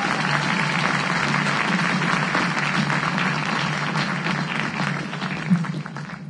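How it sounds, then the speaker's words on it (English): Steady, full applause from a large audience at a university graduation ceremony, honoring performers after a musical interlude, continuous and even throughout with a soft crowd murmur beneath. "Maybe one more round of applause for the performers."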